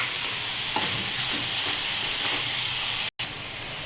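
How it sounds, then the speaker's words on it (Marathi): Chopped onion sautéing in a hot pan for paneer bhurji, giving a steady, close, even sizzle with faint stirring, broken by a momentary gap near the end. "छान कांदा परतून घ्यायचा,"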